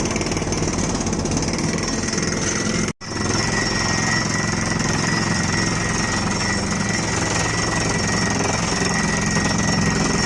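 A JCB 3DX 74 hp backhoe with an Atlas hydraulic breaker hammers hard rock: loud continuous rapid pounding over engine drone, cut by one brief pause near the start before the hammering resumes.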